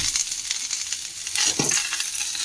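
Dried red chillies, garlic and black peppercorns frying in hot oil in a pan, a steady close crackling sizzle with soft stirring scrapes and a brief louder burst partway through, no voices.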